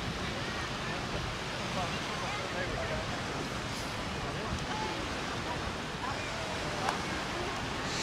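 Steady surf and wind wash over the beach at Alcúdia, Mallorca, a constant broadband rush close to the microphone, with faint voices mixed in.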